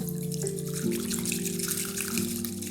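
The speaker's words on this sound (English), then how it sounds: "So I put hot water again into my tea bowl. And then I take the tea whisk and clean it in the hot water." Hot water in a tea bowl swishes and trickles softly as a bamboo tea whisk is cleaned in it, a faint gentle wash of liquid close by with no talking.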